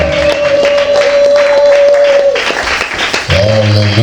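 A church congregation claps and cheers in praise, a dense burst of applause with a sustained shout, followed by a voice speaking over the fading clapping.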